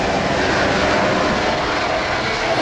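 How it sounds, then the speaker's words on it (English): ATR 72 turboprop airliner arriving from Guernsey, its engines a loud, steady, broadband roar held close and unbroken throughout. "ATR 72, coming from Guernsey"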